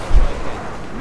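Bombing explosions in a video game, a loud deep boom up front trailing into a rolling low rumble.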